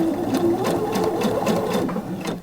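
A sewing machine stitches a blouse seam at a stitch length of 3, a loud close motor hum with rhythmic needle ticks running steadily throughout with no talking.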